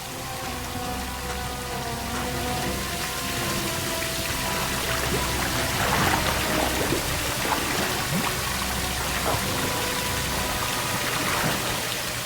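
Steady running water pours and splashes continuously, a dense, unbroken hiss with scattered drips, fairly loud throughout.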